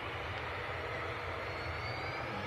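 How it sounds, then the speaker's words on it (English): A KLM airliner from Amsterdam landing at Manchester Airport, a faint, distant steady jet rumble held without change. "Also just about to touch down in the background behind this aircraft is KLM from Amsterdam."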